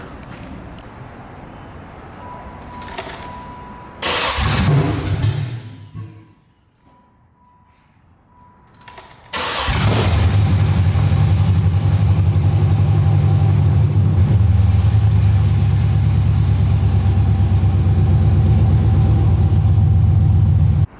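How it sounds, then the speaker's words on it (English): LS-swapped 1995 Chevrolet Impala SS: an engine cranks and fires, stumbles and dies into near silence, then catches again and settles into a loud, steady, deep idle with light revving, close to the microphone. "And now I think it's time to see if it's gonna start."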